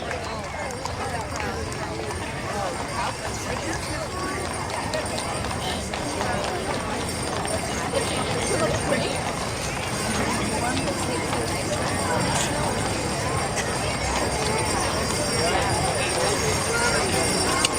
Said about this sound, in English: Andy Brexick, driving his fifth-wheel hitch wagon. Team in Clydesdale, accompanied by a crew and outriders.